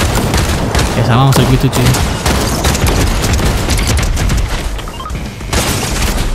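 Rapid shotgun blasts and gunfire in a Fortnite match, loud and dense bursts across several seconds, with a player talking over the shooting.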